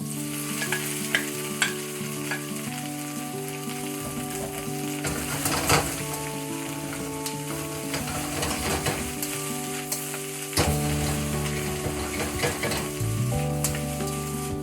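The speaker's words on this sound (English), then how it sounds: "I reset my wok and prepare to crisp my broccoli" Broccoli crisps in a hot wok with a loud, steady oily sizzle, interrupted by scraping stirs and the clank of a spatula on metal, close and continuous with no one talking.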